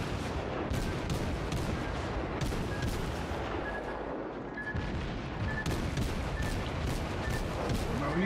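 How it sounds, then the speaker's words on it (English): Naval gunfire from German tier-3 cruisers in the World of Warships video game: dense, continuous booming salvos and cannon blasts that overlap across the whole stretch, loud and without pause. "Can someone stop shooting me from behind?"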